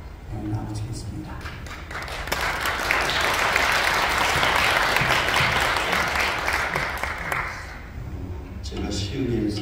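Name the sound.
audience applause welcoming the pastor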